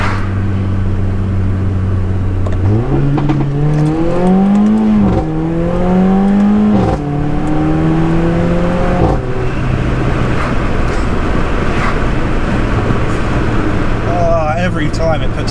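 A Mercedes-AMG A45 roars under hard acceleration, its engine note climbing through several rising sweeps as it pulls through the gears, loud and close, with a rushing road and wind roar continuing after the revs settle.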